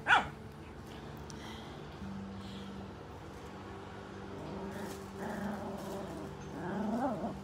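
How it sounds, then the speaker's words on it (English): A dog gives one sharp bark, then low growls and whiny grumbles follow intermittently, fairly quiet and close. "what are you barking at? Because you're not getting your way?"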